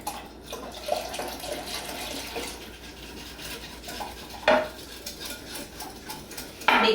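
Milk and condensed milk being mixed into a chocolate tres leches mixture, with steady liquid sloshing and stirring, occasional utensil clinks and a couple of sharper knocks against the bowl, close and without talk.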